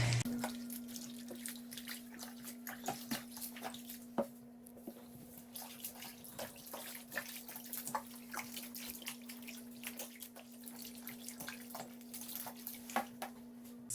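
Water pours steadily into a bathtub for stripping cloth diapers, a faint constant run with a steady tone, broken by scattered small splashes and drips throughout.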